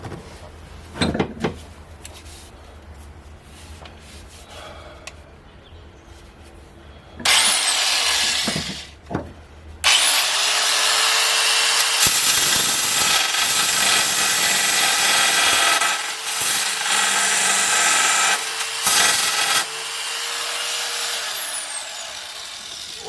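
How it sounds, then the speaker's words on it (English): A handheld belt sander grinds metal on a 1972 Volkswagen Super Beetle, starting with a short burst and then running steadily and loudly for a long stretch, with scraping variations and no talk. "grind the rest of it, grind it off with a handy dandy belt sander"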